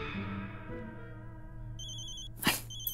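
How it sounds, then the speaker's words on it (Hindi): A telephone ring tone sounds with repeated electronic trills near the end, over a low hum, followed by a brief clatter. "ना लैंडलाइन, ना चंडी का फोन, ना ईशु का फोन, बस रिंग पे रिंग जा रही है।"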